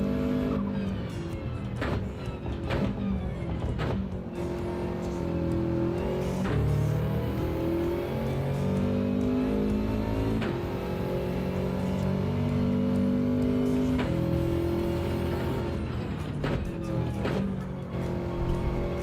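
A race car engine roars loudly and continuously close by, its pitch climbing and dropping through gear changes, including a shift up to fifth gear, with sharp clicks and tyre noise along the way.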